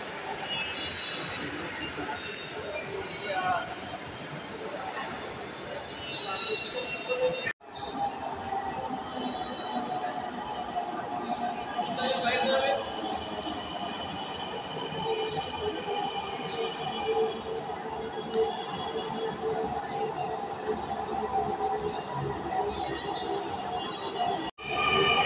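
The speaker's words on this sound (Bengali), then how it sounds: "এই ট্রেনটা অনেক জোরে যায়" A Dhaka Metrorail metro train runs along the track, a sustained rumble with squealing wheels and rising tones, steady and fairly close for a long stretch with brief cuts.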